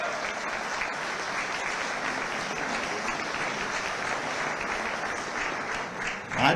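A hall full of people applauds Modi at a diaspora gathering in Dubai, steady dense clapping sustained throughout at moderate distance.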